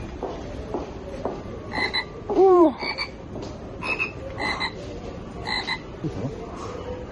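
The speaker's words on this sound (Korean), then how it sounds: "개구리도 있었다." Frogs croak in a repeated series of short calls at an outdoor spot near Atami and Ito, Japan, moderately close against steady background ambience, with a brief exclamation from a person.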